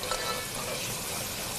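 Whole garam masala spices (cinnamon, black cardamom, black peppercorns and cloves) roast in a hot pan with a close, steady sizzle that lasts the short moment.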